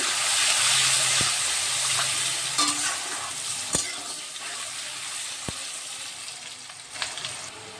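Spice paste for a village-style chicken curry with ground spices, turmeric and a little sugar is stirred in a pan, giving a steady close sizzle and hiss with a few sharp scrapes and clicks of the spoon against the pan.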